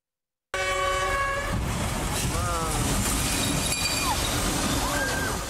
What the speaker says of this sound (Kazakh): Поезд келатыр, поезд келатыр